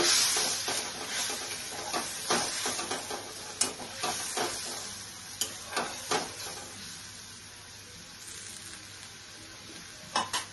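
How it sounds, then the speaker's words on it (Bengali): Water poured into a simmering pan of Bengali black and white mustard coconut egg curry, a steady sizzle and hiss with scattered stirring clicks and bubbling pops, close and alone without talk. "এভাবে একটু জল দিয়ে দিচ্ছি।"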